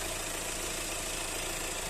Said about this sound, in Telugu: ఇంజన్ సౌండ్ మాత్రం ఈ విధంగా ఉంది